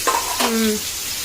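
Onions sizzle in a pan for a stingray and crab seafood dish, a soft steady frying hiss under a couple of short scraping stirs, with a brief tonal squeak partway through.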